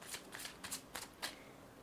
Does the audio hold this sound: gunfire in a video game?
no